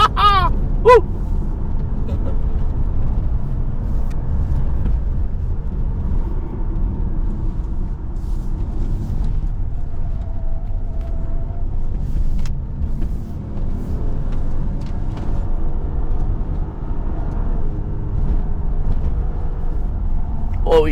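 A Volkswagen Touareg SUV, a large vehicle, accelerates with a steady low engine drone that rises and shifts up gear by itself, heard from inside the cabin under intermittent talking.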